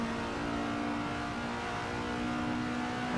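Alfa Romeo GTA race car engine lapping the Monza road course in a racing video game, a steady mid-pitched drone with a constant whine, holding near and loud throughout with no voices.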